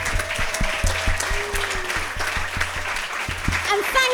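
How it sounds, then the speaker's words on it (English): Audience at a creativity and freedom talk applauding steadily, dense clapping with some individual sharp claps standing out and a faint voice or tone underneath. "I want you to give all yourself a round of applause"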